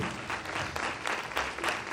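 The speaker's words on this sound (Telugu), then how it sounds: "చప్పట్లు కొడుతూ యేసయ్య నామమున మహిమపరచండి." A church congregation clapping during Sunday worship, a dense, continuous patter of many hands at moderate distance, steady throughout with no voices standing out.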